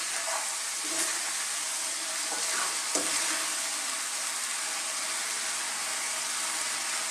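Sardines stirred gently in a frying pan with misua and patola, a steady sizzle and hiss running throughout with a few soft scraping stirs near the start, no talk.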